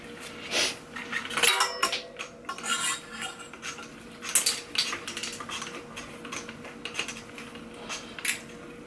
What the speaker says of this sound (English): it's still scraping a bit, you can hear it